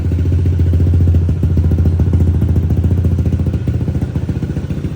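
A 232cc motorcycle engine being run in for break-in idles and revs steadily with a loud, throbbing putter and mechanical clatter, close by.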